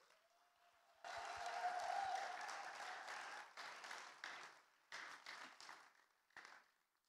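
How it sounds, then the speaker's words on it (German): Warm applause from a church congregation at a welcome during a worship service, soft clapping starting after a second of quiet and continuing in uneven bursts that fade near the end. "Wir tun das mit einem herzlichen Applaus."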